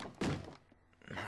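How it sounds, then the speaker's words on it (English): Repeated thumping knocks on doors in the Minecraft video game, a short burst of heavy thuds near the start fading into quieter bumps, loud and close with no talking over them. "I can't sleep with you banging on the doors"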